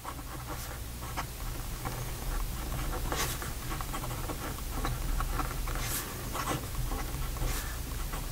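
A Diplomat Aero fountain pen with a fine nib scratches softly across paper, giving close, faint, irregular strokes with a light rasp and no talk.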